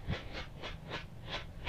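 Firework rocket puffing in regular bursts, about six hissing chuffs spaced evenly like a steam train, faint and alone.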